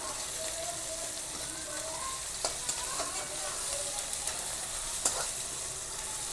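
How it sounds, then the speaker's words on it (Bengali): Tomato frying in a pan, with a steady broad sizzle carrying a few faint clicks of stirring, moderately close and with no talk. "দিয়ে হালকা একটু ভেজে নেব টমেটোটা গলা পর্যন্ত ভেজে নেব"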